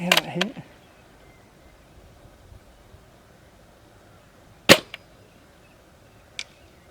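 Airsoft BBs from a Novritsch SSG96 rifle strike wooden pallets downrange, giving a few sharp, isolated cracks with long quiet stretches between, the loudest near the middle.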